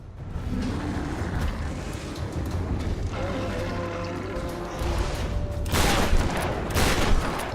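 Gunfire from a boss fight in Tomb Raider Definitive Edition, with bursts of shots over dense game ambience and a heavier flurry of loud blasts toward the end.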